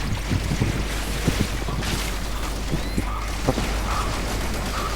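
Steady rushing wind fills a Warframe mission, a broad continuous whoosh with faint scattered clicks and thumps from the game mixed in.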